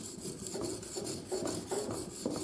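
A blunt French skirt shave blade is rubbed across a sharpening stone in steady, repeated rasping strokes, close and faint, with no talking.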